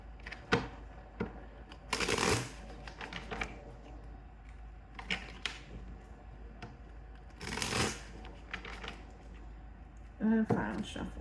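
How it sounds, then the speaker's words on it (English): Tarot cards are shuffled in a few loud, rustling bursts between stretches of a person talking, close and dry, with a short final flurry near the end. "And final shuffle."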